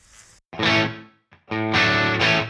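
Distorted electric guitar chords through a Headrush pedalboard's chamber room reverb ring out in two bursts with a short pause between, sustained and roomy with a lingering reverberant tail.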